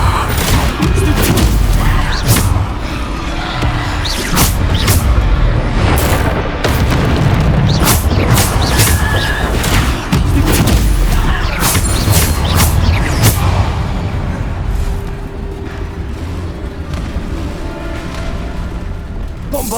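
Bombarda blasts in the game Hogwarts Legacy boom repeatedly amid loud, dense combat noise, with heavy explosive impacts and crashes layered continuously throughout.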